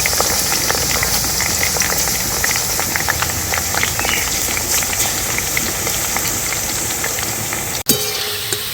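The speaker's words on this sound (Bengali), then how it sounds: "তেলটা খুব ভালোভাবে গরম করে নিয়েছি এবার চিপসগুলো ভেজে নেব" Potato chips frying in hot white oil in a karai, giving a loud, steady, dense sizzle and bubbling throughout, with a brief sharp knock near the end.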